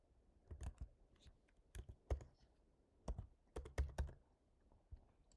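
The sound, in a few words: typing a project name on a computer keyboard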